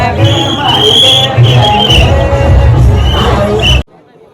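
A dense crowd of people gathered after midnight on a trip to Raigad fort, a loud, continuous babble of many voices with scattered shouts close around, cutting off abruptly near the end.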